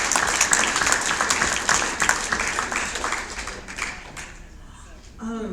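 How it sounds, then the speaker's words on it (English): A room at a school board meeting breaks into applause for a parent volunteer, steady clapping that tapers off near the end as a voice begins speaking. "let's go ahead and give her a round of applause."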